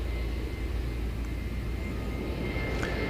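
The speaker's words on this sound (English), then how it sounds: "The Uzbekistan plane is coming in that we had heard of, is coming in over on the east side" An Uzbekistan airliner approaching to land at Incheon Airport, heard from a distance as a steady, continuous engine roar and rumble without speech.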